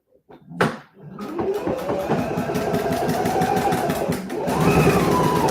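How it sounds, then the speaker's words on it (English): A sewing machine sews a zigzag stitch on knit fabric, starting with a click, then a loud, close, fast rhythmic whirring hum that runs steadily, briefly dips, and picks back up. "I'm going to switch to a zigzag stitch just to be on the safe side"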